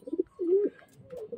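A racing pigeon coos after arriving home in Taiwan from a race release in San Quintin, Pangasinan: a close, soft, low coo with a few short throaty calls before and after it, and no other sound.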